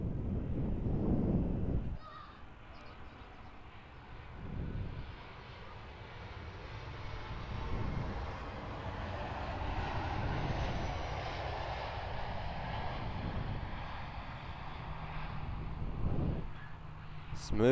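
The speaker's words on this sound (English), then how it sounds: "see this Qantas Boeing 737-800 coming in from Melbourne" A Qantas Boeing 737-800 airliner lands at Perth Airport, its jet engines a broad, steady roar that swells and lingers across the runway. Wind buffets the pickup at the start, and a brief knock sounds near the end.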